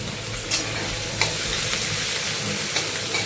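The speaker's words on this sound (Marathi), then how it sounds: "तेल आता गरम झाले तर त्यामध्ये आता कांदा टाकून घेते" Chopped onion fries in hot oil on a tava for a potato bhaji, giving a loud, steady sizzle close by with a few light scraping stirs.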